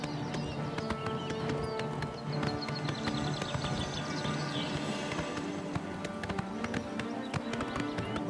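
Hooves of a horse galloping in the video game Oblivion Remastered beat in a quick, steady clip-clop rhythm, close and continuous, with faint game ambience and scattered taps behind them.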